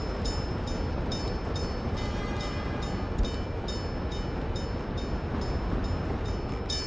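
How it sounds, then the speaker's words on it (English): Trains rolling past in the city-building game Workers & Resources, with a continuous rumble and an evenly spaced clickety-clack of wheels over rail joints, steady and fairly close, no voices. "Oh man, these trains passing's nice."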